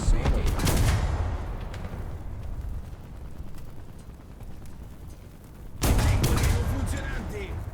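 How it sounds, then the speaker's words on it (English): Gunfire strikes a player's tank in War Thunder, with bursts of shots and impacts at the start, a quieter rumbling stretch in between and a heavy volley near the end. "there's 2 people shooting me"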